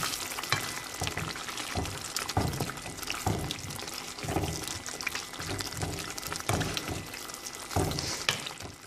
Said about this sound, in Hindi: इसमें मैंने ऑयल ऐड कर दिया, इसका भूनेंगे